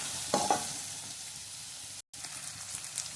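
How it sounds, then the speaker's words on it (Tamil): Curry masala of tomato, green chilli and a ground coconut, ginger and garlic paste sautéing in a pan, a soft, even sizzle close by with a brief spatter early on and a momentary dropout, no talking. "நல்லா வதக்கி விட்டுக்கலாம்."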